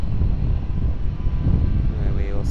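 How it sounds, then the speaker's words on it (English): A Boeing 787 airliner taxis at Sydney Airport toward the international terminal, a steady distant engine rumble with wind noise, continuous and unbroken throughout. "Our 787 arrival just down there, taxiing back up to the internationals,"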